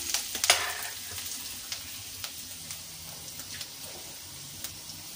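Potatoes fry in a pan, giving a soft continuous sizzle with scattered crackles and a few sharper pops near the start, close and moderately quiet, with no voices.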